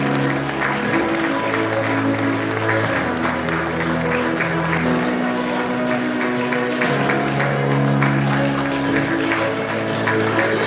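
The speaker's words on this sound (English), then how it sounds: "Can we have a big round of applause for Swati?" Audience applause for a Best Actress award winner at a film festival ceremony, continuous crowd clapping blended with loud sustained music playing throughout.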